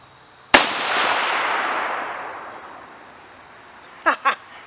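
A single loud, close Howa rifle shot firing a 68gn Hornady BTHP bullet rings out and echoes away over a few seconds, followed by two quick brief clicks or knocks near the end.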